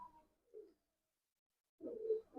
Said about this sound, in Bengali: একটা গেস্ট কবুতর এসছে এবং আমার মেন লফটে ঢুকে গেছে